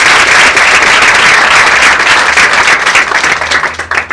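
Loud, sustained applause from a seated audience at a university colloquium, dense clapping filling the room steadily before thinning and tapering off near the end.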